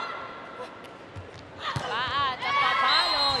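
A volleyball crowd at a PSL Invitational Conference 2019 match rises to its feet, cheering and roaring loudly after a rally, with excited commentary over it.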